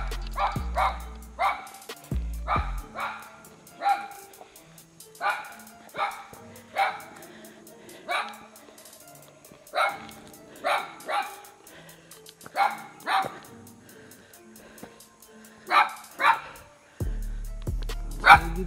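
A dog barks repeatedly at the entrance to a mountain climbing trail at Mt. Puting Bato, with loud, close barks in irregular bursts alongside short yips and brief voices.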